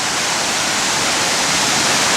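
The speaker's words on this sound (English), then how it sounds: "the water pounding into the water as it falls down below" Waterfall in the Wolfsklamm gorge pounding down into the pool below, a dense unbroken roar of rushing water, loud and close.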